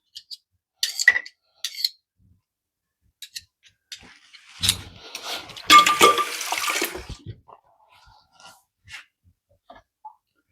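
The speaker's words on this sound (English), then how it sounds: "I'm going to scrape off my spoon." A spoon scraped against the rim of a jar while feeding a sourdough starter gives several short clinking, scraping bursts, with a longer rattling scrape in the middle, close up and alone.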